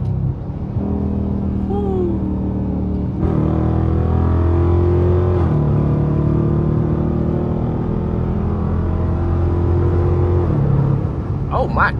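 A Dodge Charger RT engine rumbles and rises in pitch as it accelerates in the racing game The Crew Motorfest, a loud sustained drone with gear shifts stepping the tone up and down.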